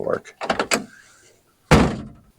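Someone talks briefly before the steel door of a 1963 Ford Falcon Futura hardtop shuts with a single loud, close thunk that rings off quickly.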